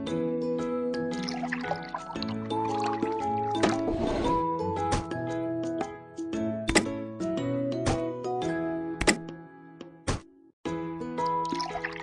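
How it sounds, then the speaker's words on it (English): Cartoon liquid pouring into a car tank in a kids' car-repair game, with bubbly plops and gurgles over bright game music, punctuated by sharp sound-effect hits. "Pour liquid into the correct tank."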